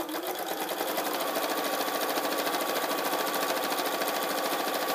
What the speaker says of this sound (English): you want to attempt to sew very straight, very close to the edge